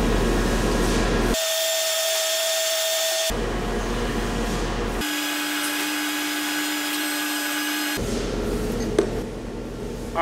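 A belt sander with a fresh belt grinds a Damascus steel shift knob into a sphere, a loud high whine broken into alternating bursts as the metal is pressed on and lifted off the belt.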